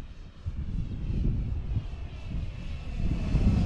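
A Freewing Cougar RC airplane flies overhead, its engine a continuous rushing drone that stays steady and fairly loud and swells slightly toward the end, heard alone.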